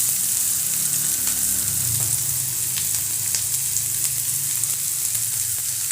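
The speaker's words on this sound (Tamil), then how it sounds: "இப்போ இதெல்லாம் போட்டு நல்லா டிரான்ஸ்பரண்ட்டாக ஆகக்கூடிய அளவுக்கு இதை வதக்கி விடணும்." Chopped onions and green chilies with a pinch of salt sautéing in a hot pan, a loud continuous sizzle and crackle with occasional stirring scrapes, close up and with no talking.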